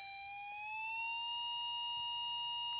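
A steady test tone from an audio function generator holds near one kilohertz, a rich buzzy waveform with stacked harmonics, sounding continuously and alone at moderate level.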